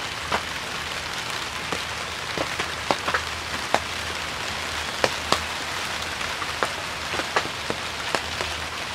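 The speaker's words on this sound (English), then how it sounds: "We're having our first rain in the greenhouse." Rain falls steadily on a bonsai greenhouse roof in May, a soft continuous patter broken by sharp, irregular drip taps landing close by, with no voices.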